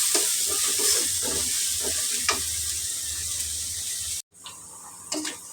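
Salted onions sizzle in a frying pan while a utensil scrapes and stirs them in a busy rhythm; the sizzle cuts out briefly near the end, then resumes with a few more stirs.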